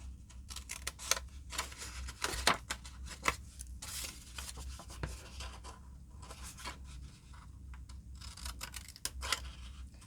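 Scissors cut a V shape along score lines, giving a run of close, crisp snips and rustles at an uneven rhythm, with no talk.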